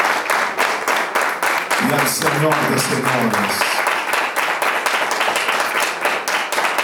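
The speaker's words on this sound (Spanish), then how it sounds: "denle otro fuerte aplauso al Rey de Reyes" Church congregation applauding, steady rhythmic clapping throughout with a voice speaking over it near the middle.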